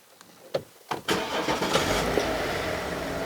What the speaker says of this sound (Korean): 시동을 켜봤는데요